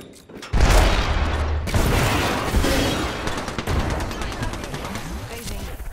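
Gunfire and a grenade in the battle-royale game Apex Legends: a heavy burst opens the barrage, then rapid automatic shots and booming impacts roll on continuously, loud and close.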